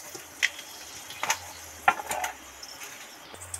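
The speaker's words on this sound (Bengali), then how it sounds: "এবার তেলের মধ্যে দুটো এলাচ ফাটিয়ে দিয়ে দিচ্ছি।" Cracked cardamom pods dropped into hot oil for a home-cooked cucumber curry give off scattered crackles and sharp pops over a soft, steady sizzle, close up and fairly quiet.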